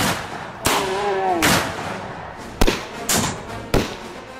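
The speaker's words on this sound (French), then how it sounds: "c'est parti pour la fusillade" Gunfire rings out in a shootout with desert raiders: five sharp, loud shots spaced irregularly, one followed by a brief ricochet-like whine.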